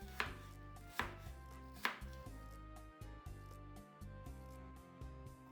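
A knife chops half of a large onion with three sharp, distinct strikes in the first two seconds. Steady background music continues afterwards with no further chopping and no speech.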